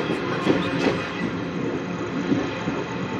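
A long-distance passenger train from Rajasthan to Sealdah runs along the tracks, a continuous loud rumble and rattle from inside the carriage, with faint rhythmic wheel clatter.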